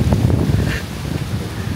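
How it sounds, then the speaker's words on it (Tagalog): Strong wind buffets the microphone in low, rumbling gusts on a Melbourne street, loud and close, with no speech. "sobrang lakas ang hangin"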